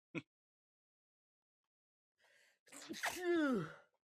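A single sharp sneeze, close and loud, then quiet before a person talks briefly.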